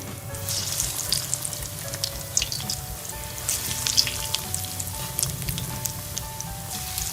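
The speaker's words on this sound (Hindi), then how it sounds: "अब इसमें रोल को डाल देंगे।" Chicken bread rolls frying in hot oil make a continuous close sizzle with crackling pops and bubbling that holds steady throughout, with no voices.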